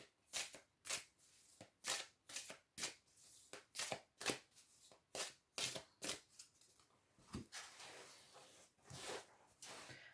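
Tarot cards are shuffled by hand in quick, crisp riffling bursts, about a dozen brisk flicks repeating at a steady rhythm, close and fairly quiet, with no talking.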